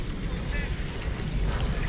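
Steady wind gusting outdoors while a two-metre Malaysian moon kite (wau bulan) is being flown, a broad continuous rush with rumbling buffeting on the microphone throughout.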